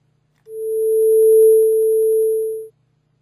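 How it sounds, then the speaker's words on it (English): A pure sine tone generated in MaxMSP, shaped by an attack-decay-sustain-release amplitude envelope: a quick rise, a slight dip after the peak, a held steady level and a fade to silence, heard alone for about two seconds. "to create an amplitude envelope with an attack, decay, sustain, and release"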